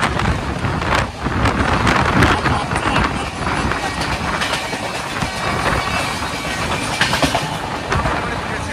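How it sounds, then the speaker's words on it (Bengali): A Dhauli Express passenger train running on the tracks, heard from on board as a loud, steady rumble with rhythmic clickety-clack and some wind buffeting. "আর যেহেতু আমরা এখন ধৌলি এক্সপ্রেসে যাচ্ছি"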